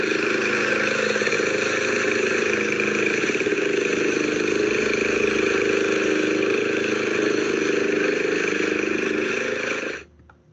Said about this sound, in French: C'est la tondeuse.